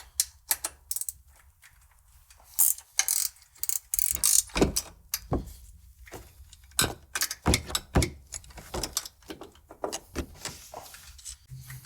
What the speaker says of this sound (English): 15 millimeter wrench to get these off.